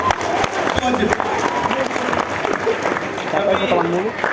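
Students in an audience applaud with dense, steady clapping throughout, close and fairly loud, with crowd voices mixed underneath.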